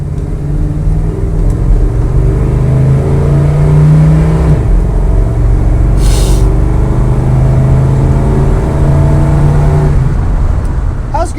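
A 1972 Chevrolet C10 pickup with a 350 small-block V8 and automatic transmission revs and pulls hard on a test drive, a loud, steady engine drone rising and falling in pitch throughout, heard close from inside the cab.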